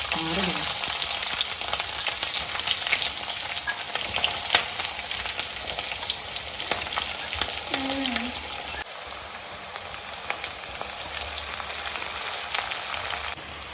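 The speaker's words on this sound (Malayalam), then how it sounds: "പച്ചമുളകും വെളുത്തുള്ളിയും ഇഞ്ചിയും കറിവേപ്പിലയും എല്ലാം എണ്ണയിലേക്ക് ഇട്ട് നന്നായിട്ട് വഴറ്റി കൊടുക്കാം" Green chillies, garlic, ginger and curry leaves sizzle steadily in hot oil, a continuous crackling fry with occasional stirring and a brief faint voice underneath.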